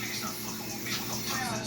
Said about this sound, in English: I'm just adding a little bit of water into here.